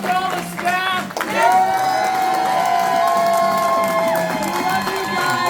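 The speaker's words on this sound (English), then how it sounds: "one huge round of applause for all the staff" A fan-convention crowd in a hall bursting into loud cheering, whoops and clapping that swell after a brief dip and stay strong, with high shouted voices throughout.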